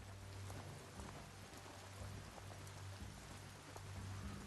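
Rain falls in the Biomutant video game world, a steady, faint hiss of drops with a low rumble underneath and no voices.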